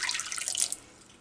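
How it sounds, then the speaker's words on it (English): Water pours steadily into a crock pot holding baby back ribs, a close splashing stream that runs for under a second before trailing off into a faint drip. "pour just a little bit of water, maybe like a half a cup of water"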